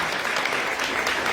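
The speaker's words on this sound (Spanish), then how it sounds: "hónrenlos con un aplauso en su memoria" Dense applause fills the space as a gathering honours the memory of their grandparents, a steady wash of many hands clapping together without a break, loud and close throughout.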